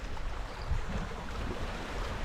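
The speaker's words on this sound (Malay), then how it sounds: "Sekarang ni ombak lah, kalau bunyi tu." Steady rushing wash of ocean waves, broadband and constant, with a low rumble and no voices.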